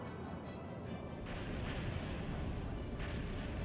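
Moonstone Cannon firing in the video game Skies of Arcadia Legends: a heavy, rumbling blast with booming explosion bursts and a sustained roar of game effects, loud and continuous throughout.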